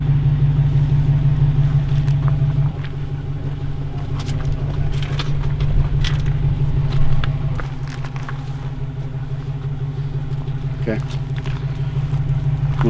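An overland vehicle engine runs in low first gear, a loud, steady rumbling drone with a brief shift in pitch partway through. A few faint knocks and rattles sit over it.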